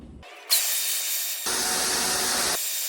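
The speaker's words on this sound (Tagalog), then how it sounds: "Grabe, ang lakas ng blower." A loud, steady rushing blast of air from a blower that cuts in abruptly and surges stronger partway through, dominating the clip with no talking.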